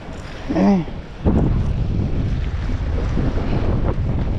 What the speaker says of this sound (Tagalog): Ang lakas ng hangin.